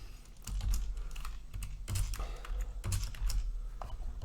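Fingers type code on a computer keyboard in quick, uneven bursts of close, crisp key clicks, with no voices.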